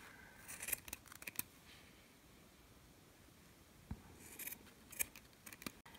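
Scissors snip strands for a DIY faux ostrich feather quill Halloween decoration, producing faint, close clicks and short cutting sounds in small clusters over quiet background hiss.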